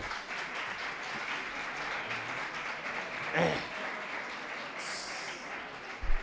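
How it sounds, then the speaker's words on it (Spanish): Audience applause at a conference session on human capital, a steady crowd clapping texture that holds throughout at moderate level, with a brief louder burst near the middle and a short thump at the end. "Gracias por el aplauso"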